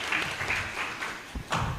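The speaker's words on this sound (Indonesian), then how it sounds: "Tepuk tangan untuk Iya, tepuk tangan buat para santri." Audience applause for students at an open Islamic boarding school exam, a short uneven patch of clapping with a few sharper claps and some background murmur.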